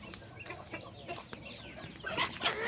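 A broody hen clucks repeatedly at close range, short soft calls scattered over a quiet background, growing a little louder toward the end.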